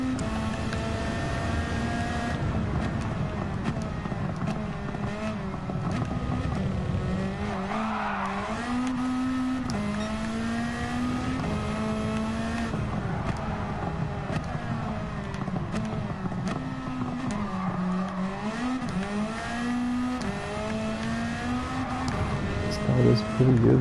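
A race car drives a lap in Gran Turismo 7, its engine note rising and falling steadily through gear changes, with brief tire squeals in the corners, close and continuous throughout.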